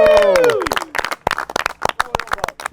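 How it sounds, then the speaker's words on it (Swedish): Fishing competition teams break into a hearty round of applause after a pike contest, a voice trailing off at the start as rapid clapping from a small group follows, loud and close, fading in uneven bursts. "så ge samtliga team varandra en rejäl applåd"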